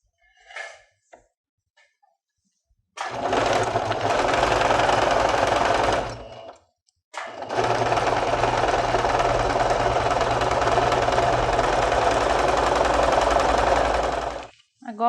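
A sewing machine stitches fabric for a kitchen craft project in two long continuous runs of fast rhythmic whirring and clattering, loud and close, with a short pause between them.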